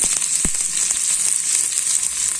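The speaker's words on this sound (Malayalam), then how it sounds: "അപ്പോൾ നമ്മുടെ കടുകെല്ലാം പൊട്ടി" Mustard seeds crackle and pop in hot oil, a dense close sizzle with sharp scattered spluttering bursts running steadily throughout.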